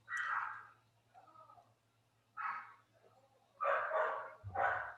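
Dog barking in a quiet room: several separate barks, some doubled, with softer whimper-like sounds between them, moderately close, with a faint steady hum underneath.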